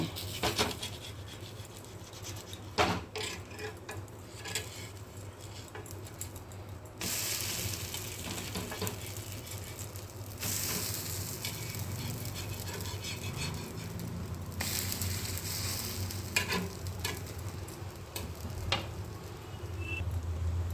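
Drumstick leaf adai, a lentil pancake, cooking on an iron griddle, with a steady low sizzle throughout and occasional scraping clicks, brighter hissing bursts at moments as oil hits the hot surface.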